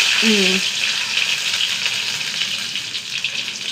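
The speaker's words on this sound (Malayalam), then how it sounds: "കടുക് കടുകിട്ട് കൊടുക്കട്ടെ കേട്ടോ രണ്ട് വട്ടൽ മുളക്" Mustard seeds and dried red chillies sizzle steadily in hot oil, a loud, even hiss with faint crackles, after a brief voice at the start.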